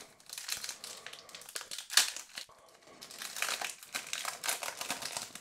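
A gold foil packet of Fortuna Liga football trading cards is torn and opened up close. Crinkling and tearing come in bursts with one sharp rip near the middle, quiet but clear.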